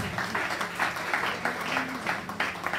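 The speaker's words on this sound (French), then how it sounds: "Acclamez très fort pour la sœur." An audience in a church gathering applauds and cheers for a sister, a steady crowd clapping at moderate distance with pulsing swells and faint voices mixed in.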